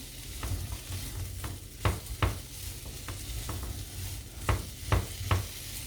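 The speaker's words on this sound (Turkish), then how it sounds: "Şöyle bir karıştırıyorum. Her tarafa eşit yayılsın diye." Purple potatoes with salt sizzle in a frying pan while being stirred, a steady fry hiss broken by several sharp scraping clinks of the utensil against the pan, close and without talk.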